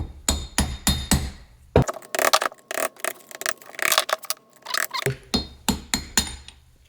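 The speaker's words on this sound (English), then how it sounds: "here I'm going to use a little chisel. Push around to put it straight." A small chisel taps metallically on the cap of a Samsonas gravel-spec rally coilover with remote reservoir, sharp close clinks in quick bursts with a short scraping, pushing passage between them.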